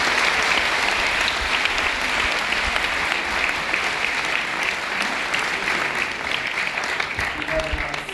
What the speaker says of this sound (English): can we have a loud round of applause for all three of them?